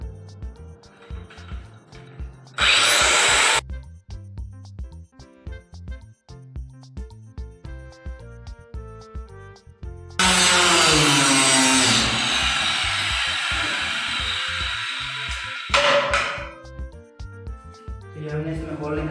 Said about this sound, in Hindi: तो चलिए ड्रिल से इसमें होल्स निकालते हैं